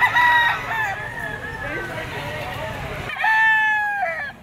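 Roosters crow at a chicken auction market in Lipa. Two loud, close cock-a-doodle-doo calls are separated by a stretch of softer clucking and background murmur.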